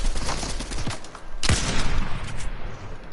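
A purple sniper rifle fires in Fortnite, one sharp, loud shot that cuts through a steady wash of battle noise and rattling gunfire.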